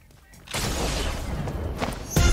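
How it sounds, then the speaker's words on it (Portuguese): A shotgun blast in the Fortnite video game, a sudden loud boom with a crashing, noisy tail that carries on for about two seconds before a second sharp hit near the end. "Quarto tiro da cartucheira."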